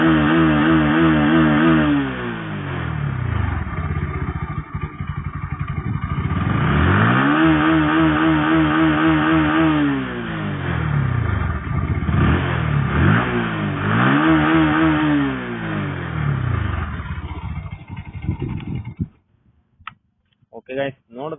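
A Bajaj NS 160 motorcycle engine revving hard repeatedly close by, each rise and fall of the throttle sweeping up and down before dropping to silence near the end.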